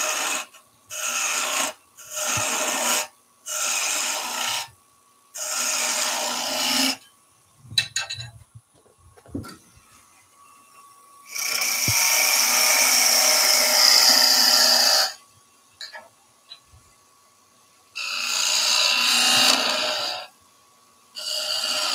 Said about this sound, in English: Let's go down with the spindle gouge.